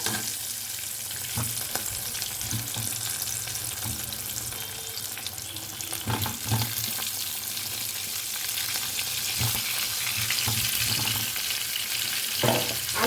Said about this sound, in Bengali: তেলের মধ্যে প্রথমে আলুগুলোকে ভালো করে ফ্রাই করে নেব